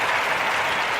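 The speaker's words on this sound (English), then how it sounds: "Just round of applause." A crowd breaks into a short burst of dense clapping and applause, loud and steady throughout, heard alone.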